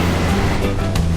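Ocean waves break on the beach at Uluwatu, Bali, a loud continuous wash of surf close by with a couple of stronger surges.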